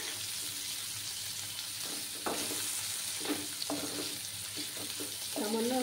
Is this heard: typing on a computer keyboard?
no